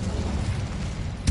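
A fire spell cast in a video game lands as a dense, rumbling magical burst, sustained across the moment and swelling into a final thump at the end, with no voices.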